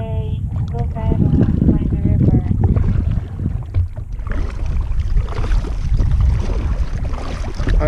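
A paddle works the water from a small boat, with splashes and gurgles under wind buffeting the microphone, while a person talks and a few musical tones sound near the start.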